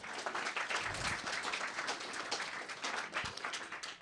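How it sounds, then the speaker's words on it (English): Audience applause at a journalism talk, steady clapping from a crowd filling the room for the full stretch at moderate distance, with no voices over it. "Let's give them a round of applause"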